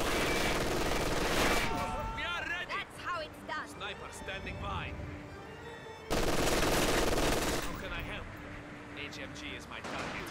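Gunfire in Company of Heroes 2 during a winter battle, a burst of loud shooting and blasts opening the clip, then a voice talking over quieter combat before another loud volley erupts.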